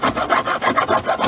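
A file or sandpaper rasps back and forth across a rattan sword, quick regular strokes of close, dry scraping, about a dozen in rapid rhythm with no voices.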